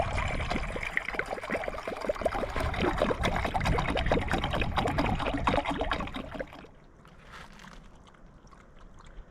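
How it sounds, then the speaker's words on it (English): Water is poured into a pet's bowl at a camp on Idaho state land, a steady close splashing trickle lasting several seconds before stopping abruptly and leaving quiet outdoor ambience. "fill your water bowl"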